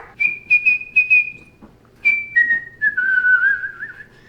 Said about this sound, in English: every morning what I do, I go to my garden and I whistle